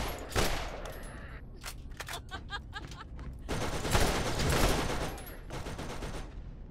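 A Gatling gun in Borderlands fires rapid, fast-repeating bursts, then a heavier roar of sustained fire follows, loud and close.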